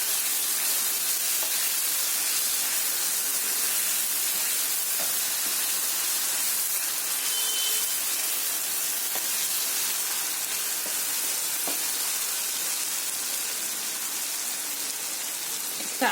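Boal fish frying with raw mango pieces in a pan, a steady, dense sizzle and hiss that stays even and continuous throughout, close and fairly loud.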